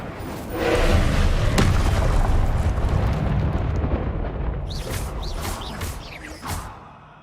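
A fiery burst from an Incendio spell in the Hogwarts Legacy video game, a loud roaring whoosh that swells and rumbles for several seconds, followed by a few sharper crackling flares near the end.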